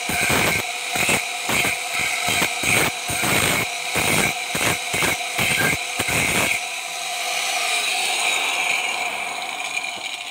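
A tool smooths a part of the waste valve for a 1-inch hydraulic ram pump, with about a dozen rhythmic rasping strokes up close, then a steady hum carrying on alone.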